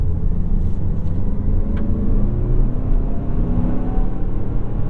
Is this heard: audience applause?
no